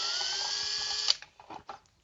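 A power tool backing screws out of a bracket on a full-size Dalek dome: a steady high whine for about a second, then a cutoff and a few clicks and knocks as parts are handled.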